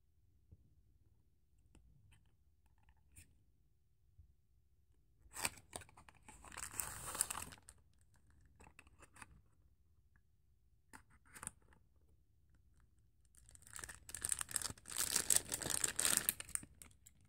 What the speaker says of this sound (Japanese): それでは開封していきます。